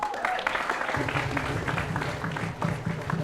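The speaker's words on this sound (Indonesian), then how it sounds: "Tepuk tangan dulu" A school audience at a high school pantun event in Palembang claps in a lively round, the dense clapping running throughout with voices mixed in underneath.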